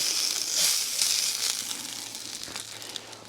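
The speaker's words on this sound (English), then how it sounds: "listen to that, man. It's still sizzling" Steady bright sizzling hiss of food frying in a hot cast iron pot, continuous throughout and fading slightly toward the end, with no talking.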